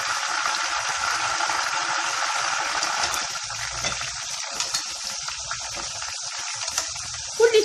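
Water sprinkled into hot oil where homemade potato chips are frying sets off a loud, dense sizzling hiss close by. It holds steady for a few seconds, then thins into crackling spatter, with no voices.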